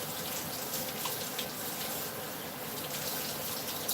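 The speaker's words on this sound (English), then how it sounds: "I'm just going to add some water in here" Water pours steadily into a sheet pan lined with parchment paper after roasting chicken and potatoes, a continuous close hissing stream with no pauses and no talking.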